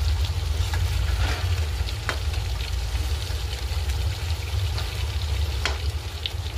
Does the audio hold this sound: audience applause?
no